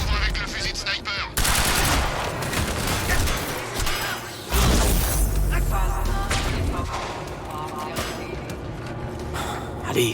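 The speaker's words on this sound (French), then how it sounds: "J'avance vers l'ennemi avec le fusil à pompe." Rapid shotgun blasts and automatic gunfire crackle loudly in a Quantum Break firefight, a dense run of booming shots packed against one another from start to finish, with a voice speaking beneath the barrage.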